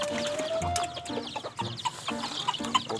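Red junglefowl, wild chickens kept on a backyard farm, cluck in short repeated bursts close by, with overlapping calls from several birds and a sustained faint tone behind them.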